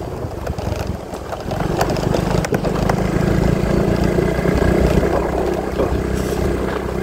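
Unserviced motorcycle running on a rough, potholed village road, a loud, steady mid-range engine drone with rattly texture and a faint intermittent squeak, with no talking.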